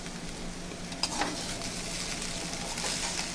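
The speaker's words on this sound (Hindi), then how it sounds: "और आधा चम्मच विनेगर डालने के बाद हमने इसे अच्छे से मिक्स करना है," Fried rice tossed and mixed in a hot pan after a splash of vinegar, a steady soft scraping and stirring over a continuous low sizzle, close and even throughout.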